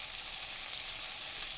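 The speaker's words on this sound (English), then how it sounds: "Then add the sliced white onions and the green chilies," Sliced white onions and green chilies fry in oil with black and green cardamom, a soft, steady hiss and sizzle from the pan, faint and continuous with no talk.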